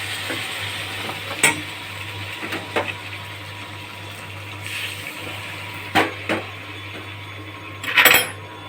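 Hot water poured into a pot of spicy potato curry (aloo dum) meets a steady low sizzle and bubbling, with a few sharp utensil clinks against the pot scattered throughout.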